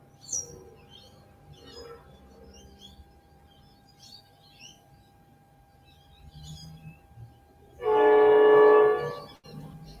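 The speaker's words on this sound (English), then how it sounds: "Train coming." A train horn sounds loud and sustained near the end, after a quiet stretch of faint outdoor ambience with scattered bird chirps, as a train approaches.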